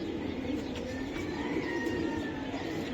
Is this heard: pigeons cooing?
yes